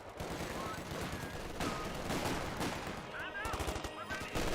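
Battlefield gunfire in Company of Heroes 2 as German Grenadiers engage Thompson-armed squads, a steady rattle of overlapping rifle and submachine-gun bursts, fairly quiet and continuous with no voices.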